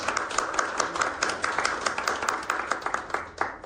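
An audience at the opening of a theatre performance claps steadily, many hands producing a dense, rhythmic patter of applause that carries on throughout at an even level.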